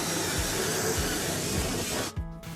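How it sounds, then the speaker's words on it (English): A power drill with a spade bit bores through a wooden wall stud for a pot light wiring run, giving a steady close whirring grind with low rhythmic thumps, then stopping near the end. "Now using a spade bit, we're going to drill through this stud"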